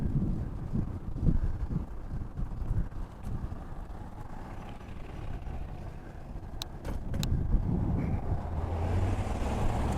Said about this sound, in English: have the natural wind from the ride itself, and the wind, as I think I mentioned before, is mostly coming from the west